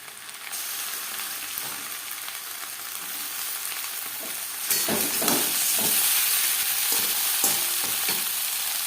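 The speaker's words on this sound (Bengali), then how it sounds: "চার পাঁচ মিনিট পেঁয়াজ ভেজে নেওয়ার পর দিয়ে দেবো ম্যারিনেট করে রাখা চিকেন" Marinated chicken hitting hot oil with onions, a continuous dense sizzle that swells louder midway as pieces are stirred in, with scraping and clatter against the pan.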